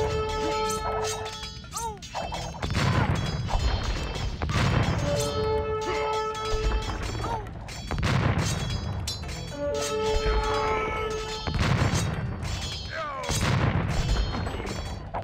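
Massed cannon fire in Age of Empires 2 HD with a 256x tech mod, heavy booms and crashes rolling in repeated waves over busy battle noise, with a voice talking underneath.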